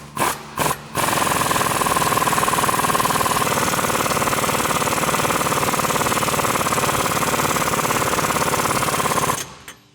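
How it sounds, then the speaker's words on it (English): A power tool fitted with a 15/16 socket runs down the strut nuts on a 2015-2023 Mustang during a lowering spring install. Two short bursts come first, then a steady, loud buzzing whir that lasts about eight seconds before it stops. "we'll tighten them down with our 15/16 socket"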